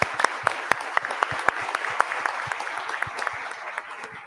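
An auditorium audience at an international forum on social justice and education applauds invited professors, a dense, sustained burst of clapping with sharp individual claps standing out, close and steady throughout.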